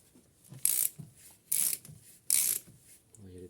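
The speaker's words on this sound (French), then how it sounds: "Et les écrous, on les serre." A ratchet tightens the rocker shaft nuts on the cylinder head of a Triumph Spitfire MK3, giving three bursts of crisp, close clicking separated by short pauses.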